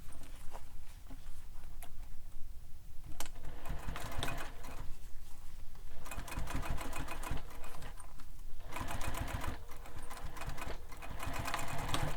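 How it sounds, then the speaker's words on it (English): A sewing machine top stitches a seam on a fabric sling pack in several sustained runs of rapid, loud mechanical chatter, separated by brief pauses. "we're going to top stitch this seam"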